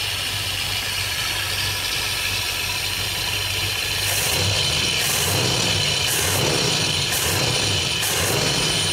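A small engine runs steadily after a leaking carburettor is repaired, a loud constant idle with even, regular pulsing bursts appearing in the second half.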